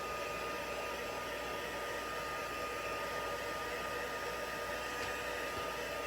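A heat tool blows steadily over a craft project, a constant close, airy whirring hiss with no breaks and no talk.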